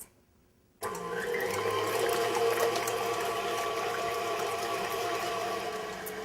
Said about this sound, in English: And now we're going to beat this on medium until soft peaks.